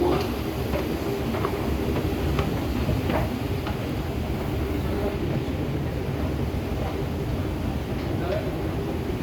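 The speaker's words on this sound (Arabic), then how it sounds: "The train to Center Point will arrive at platform" A Dubai Metro train arrives at a platform in a steady, loud rumble with faint clicks along the rails, carrying on without break and filling the station.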